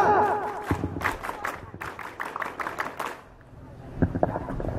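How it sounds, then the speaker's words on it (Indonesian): Crowd of girls at a Gontor Putri 7 campout claps hands in a burst of rhythmic, fairly close applause mixed with shouts, fading into a lull before a few more claps near the end. "Tepuk tangan."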